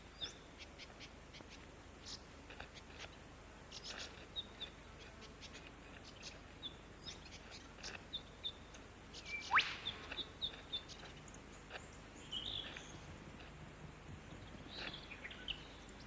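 Whipbird calls in an Australian rainforest ring out, including one sharp whip-crack sweep near the middle, set among faint scattered chirps and insect clicks over a quiet forest background.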